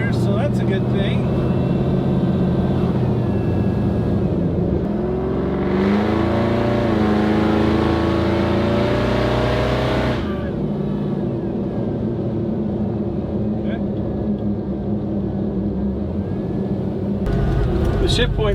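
A wrecker truck under way, with a steady engine and drivetrain drone and broad tire roar on the road. The pitch climbs through a gear midway, and a voice talks over the noise.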